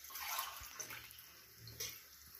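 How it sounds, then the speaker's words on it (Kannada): Water poured into a pot of vegetable pulao with boiling masala, a soft continuous splashing stream heard alone, fairly faint. "ನೀರು ಹಾಕ್ತಾ ಇದ್ದೀನಿ."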